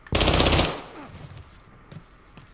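An RPK machine gun in the Modern Warfare 2 campaign fires a loud, rapid burst of shots for about half a second, followed by a fading echo and a few faint scattered pops.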